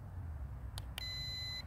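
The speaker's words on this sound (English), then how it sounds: "and it just beeps." A Holy Stone 720 drone beeping as its propellers are started: two short beeps followed by a longer steady electronic tone, faint and close over a low background hum.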